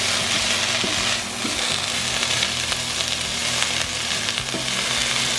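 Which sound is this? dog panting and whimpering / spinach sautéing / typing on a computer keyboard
spinach sautéing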